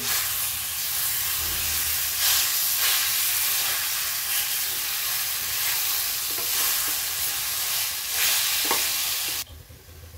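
Mashed roasted eggplant stirred into an onion masala in a hot pan for baingan bharta, a loud even sizzle with soft scraping strokes, close up, cutting off abruptly near the end.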